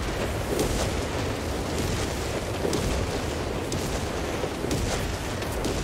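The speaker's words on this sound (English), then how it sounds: "We're going to do a max range barrage into all of these units right in the center of them" A Whizbang rocket artillery barrage in Company of Heroes 3 pounds away at long range, a dense, continuous roar of overlapping rocket impacts and explosions held at steady loudness throughout.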